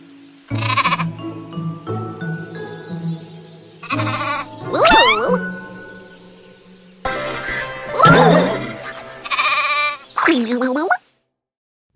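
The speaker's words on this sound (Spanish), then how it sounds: "There sure are some crazy colored sheep on this farm." Sheep bleating on a farm: several loud, close, wavering bleats in separate bursts with short pauses between them.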